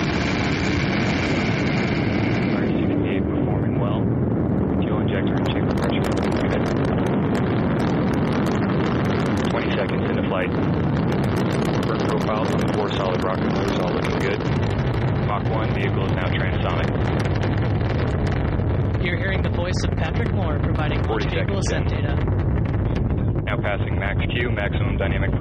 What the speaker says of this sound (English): liftoff of the United Launch Alliance Delta IV rocket carrying the WGS-8 mission for the United States Air Force